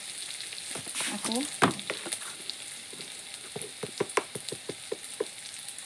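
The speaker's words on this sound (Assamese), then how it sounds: "পিঁয়াজখিনি এতিয়া অকণমান ৰঙা হোৱালৈকে ভাজি ল'ম।" Onions sizzling and frying in a pan in a home kitchen, a soft continuous crackle with intermittent stirring scrapes and taps, and a brief spoken word.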